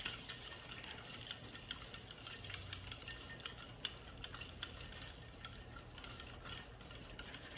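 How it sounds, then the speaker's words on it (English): A cocktail shaker holds an egg white mixture with no ice and is shaken hard. It gives a quiet, fast run of rhythmic ticking and sloshing, with no voices. "I'm gonna shake the heck out of it."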